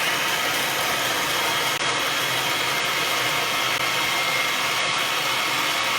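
A food processor grinds a vegan pizza cheese mixture with a loud, steady motor whir that runs unbroken and close, with no voices over it.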